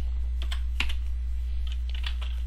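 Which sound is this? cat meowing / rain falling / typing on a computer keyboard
typing on a computer keyboard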